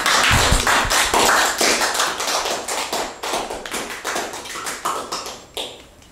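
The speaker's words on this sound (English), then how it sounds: "Give her another round of applause, everybody." An audience claps after a performance, a loud burst of many hands that gradually thins into fewer, scattered claps as it fades.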